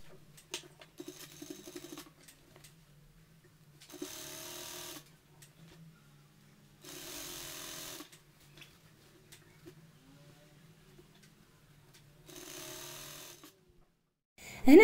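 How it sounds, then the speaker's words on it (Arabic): Sewing machine stitching fabric for a bag, short bursts of rapid mechanical whirring repeated four or five times with quiet pauses and faint handling between runs. "هذه منين رايحين ندخلوا هذاك الخيط، دوكا انا نخيطها."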